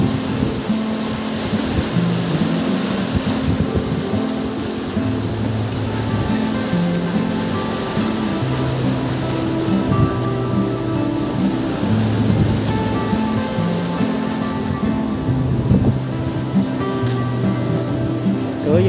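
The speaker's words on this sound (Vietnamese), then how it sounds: "Biển hôm nay động quá" Rough sea waves churn at the Duong Dong river mouth on Phu Quoc, a steady, loud wash of surf mixed with wind and a low mechanical drone throughout.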